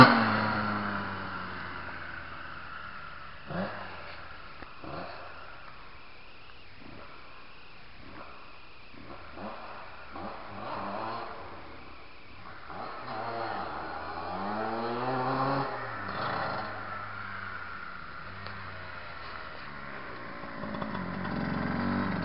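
A Kawasaki motorcycle out on a ride, its engine droning steadily and rising and falling through revs and gear changes. The sound is muffled and fairly distant, with some wind in the background.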